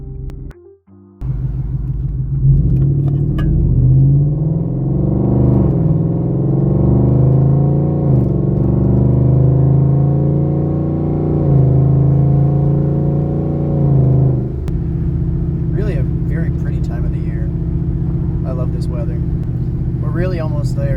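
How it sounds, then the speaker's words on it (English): A car heads out toward a nature walk spot, its engine starting up and then rumbling loud and steady from inside the cabin as it accelerates and shifts, with speech over part of the drive. "I'm going to drive there, show you guys a little bit of the drive"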